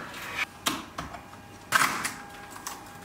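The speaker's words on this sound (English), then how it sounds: "follow the cut lines on the PCB and break into 8 pieces using the edge of a table" A printed circuit board from an Elekit TU-8200R amplifier kit is snapped into pieces along its cut lines against a table edge, giving several sharp, dry cracks, with a louder pair of snaps midway, close and alone.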